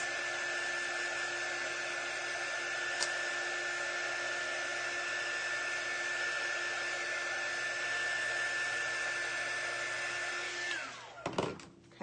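A hair dryer blows steadily on a handmade craft gnome with a constant high whine and airy rush, running close and unbroken for several seconds before it is switched off and winds down with a short clatter.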